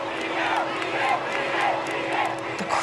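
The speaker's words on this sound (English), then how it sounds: "The crowd going mad for me" A large concert crowd in Brazil chants a singer's name in a loud, rhythmic, repeating roar, with cheering that carries on throughout.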